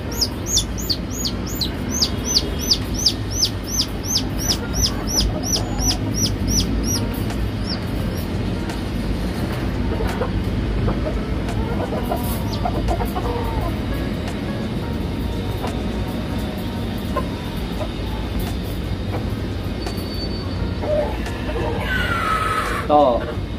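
Newborn gamefowl chicks peep in a quick, high run of chirps early on while being marked, then fade under steady background noise as someone talks throughout.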